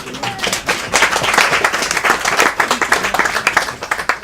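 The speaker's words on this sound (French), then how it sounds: "Bravo Michel, on peut l'applaudir" A studio audience applauds a guest named Michel on a French variety show, loud and dense clapping that holds steady and then thins slightly toward the end.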